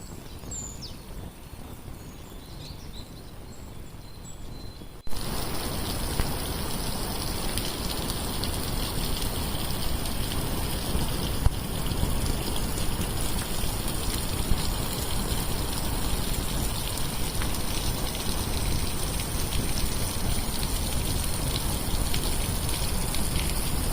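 A steady, dense roar of the Dzhurynskyi waterfall on the Dniester in Ukraine fills the scene, loud and constant after a quieter opening few seconds.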